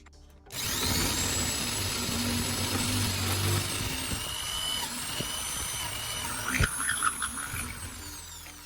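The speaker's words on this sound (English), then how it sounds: "With the marks in place, I'm drilling through the wooden base." A power drill bores holes through a wooden base, starting abruptly with a steady whirring grind that runs close and continuous, then breaks into a few rougher bursts near the end.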